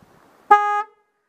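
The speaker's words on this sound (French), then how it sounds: "On a le klaxon, alors je suis pas sûr que ce soit d'origine, surtout que c'est comme la 2 chevaux, ça a 2 tons." A single short horn blast from a 1971 Renault 4L, with a bright, buzzy two-tone quality, close and clear, then silence.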